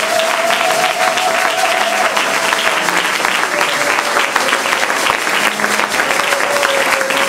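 A church congregation in Guadeloupe applauds and cheers together, loud, dense and continuous, with a voice or tone sustained faintly through the crowd.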